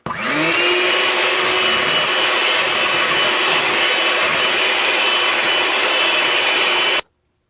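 Electric hand mixer beating chocolate and banana muffin batter, a loud steady whir that spins up quickly, holds an even pitch for about seven seconds, then cuts off abruptly, with no one talking.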